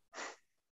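A single small, breathy cat sneeze, quick and soft, followed by a brief trailing exhale.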